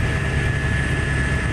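Helicopter flying over Kedarnath, a steady dense rotor and engine drone heard from inside, loud and unbroken with no voices.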